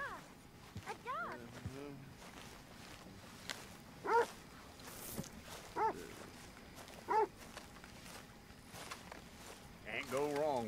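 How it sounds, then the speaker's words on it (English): Dog in Red Dead Redemption 2 barking in three or four separated sharp yelps at mid distance, under overlapping character voices and ambient camp noise. "A dog! A dog!"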